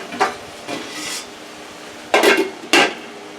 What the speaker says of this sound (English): I'm going to put a top on it.